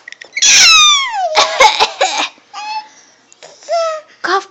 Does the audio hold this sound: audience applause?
no